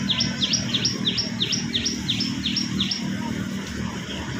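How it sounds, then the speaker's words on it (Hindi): A small black sparrow chirps outdoors in a repeating run of quick, high, bright notes, close and loud, over a busy background rumble. "एक छोटी चिड़िया"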